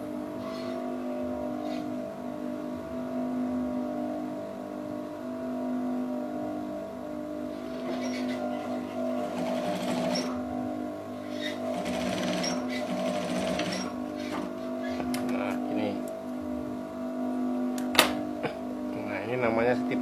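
A sewing machine stitching kebaya fabric runs with a steady mechanical hum and whir, close and continuous, pausing and resuming briefly, under a voice talking quietly.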